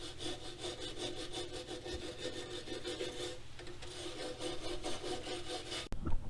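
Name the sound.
sanding a truck frame bracket area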